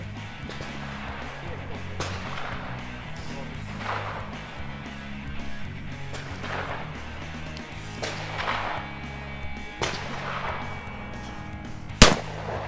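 Gunshots crack at a clay pigeon shooting range, several spaced reports heard at a distance over steady background noise, with one sharp, louder shot near the end.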